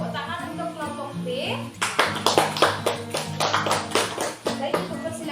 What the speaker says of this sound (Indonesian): jadi berikan tepuk tangan untuk kelompok B